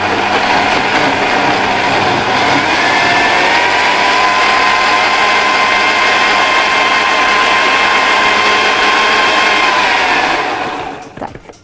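An electric mixer whirs steadily while beating ingredients for a diabetic-friendly cake, a loud, close, continuous motor drone lasting about ten seconds before winding down and stopping.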